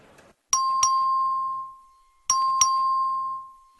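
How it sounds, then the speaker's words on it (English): A voting bell in the Texas House of Representatives chamber rings twice as two long, steady electronic tones, each sustained for well over a second, starting with a sharp strike and carrying clearly with no talk over it. "Clerk, ring the bell."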